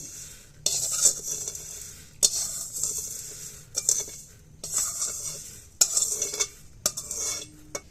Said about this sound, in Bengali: তো চালগুলো আমি লবণের উপর এইভাবে বিছিয়ে দেব